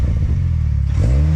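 A fully built Mazdaspeed6 with a huge turbo rumbles loud and close through its exhaust, the engine note swelling into a rev toward the end.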